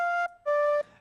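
A sampled flute with a flanger effect in Kontakt playing two clear sustained notes, the second longer, with a sweeping, slightly hollow shimmer on the tone and no voices.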